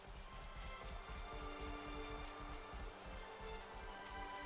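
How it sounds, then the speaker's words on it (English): Steady rainfall in Xenoblade Chronicles hisses evenly and continuously under a sustained musical drone, with no breaks or voices. "Rain. How inconvenient."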